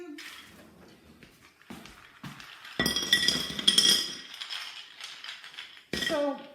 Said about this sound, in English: I'm going to fill them with ice cubes